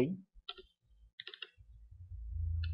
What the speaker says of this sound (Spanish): Vamos a dar doble clic en el botón OK.